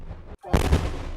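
An explosive detonates close by: a sudden, powerful boom and shockwave that follows a brief hush, then rolls on loudly for the rest of the moment.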